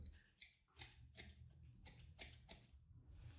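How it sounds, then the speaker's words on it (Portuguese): Toothed thinning scissors snip through straightened hair in a salon, about a dozen crisp close metallic cuts in a steady rhythm, alone with no talk. "vou pegar o pente aqui, levantar e com a tesoura dentada vem tirando o excesso"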